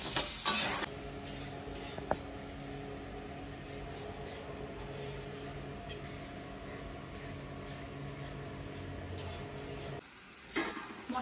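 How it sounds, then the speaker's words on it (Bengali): Spiced masala with potatoes being stirred and fried in a pan for paneer kosa, a steady low sizzle with occasional scraping and stirring clatter running throughout, then dropping off near the end. "এবার বাকি মশলাটা কষাতে কষাতে আলুটাও কিন্তু সেদ্ধ হয়ে যাবে।"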